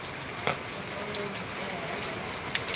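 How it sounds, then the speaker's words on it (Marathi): Steady rain falls outdoors in an afternoon downpour, a dense even hiss of drops with a few louder splashes nearby, continuous throughout. "पाऊस पडतोय आता इकडे"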